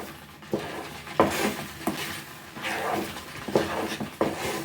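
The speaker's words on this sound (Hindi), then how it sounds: "सिर्फ आपको लो फ्लेम पे इसे पकाना है और इसे लगातार ही चलाते हुए रहना है" Amla candy mixture stirred in a pan over a low flame, a spoon scraping and knocking against the metal in irregular strokes roughly every second, close and moderately loud with no talk.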